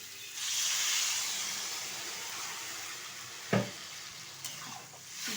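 Water poured into a pan of frying potatoes and taro for a Bengali fish curry, heard as a loud rushing sizzle that gradually settles into a softer bubbling hiss, with a couple of sharp utensil knocks near the end.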